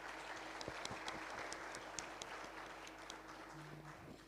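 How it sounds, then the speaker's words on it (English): Applause from an audience at a conference panel session in Tanzania, faint and distant, with a steady patter of claps under a low hum of room noise. "Can we give them a round of applause?"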